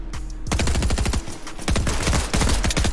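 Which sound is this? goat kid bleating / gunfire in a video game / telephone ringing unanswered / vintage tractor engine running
gunfire in a video game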